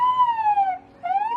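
A boy vocally imitates a police siren, producing a loud, close wailing tone that slides down and then rises again, alone with no other sound.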